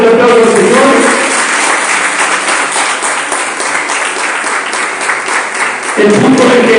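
Church congregation breaks into loud, sustained applause that fills nearly seven seconds, dense clapping from many hands, briefly easing mid-way then swelling again at the end, with voices mixed in.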